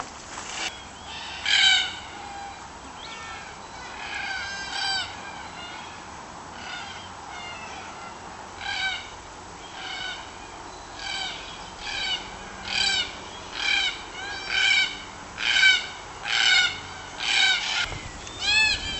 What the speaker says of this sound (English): All around me, Biluwara, red-tailed black cockatoos on the Kulaluk Lease.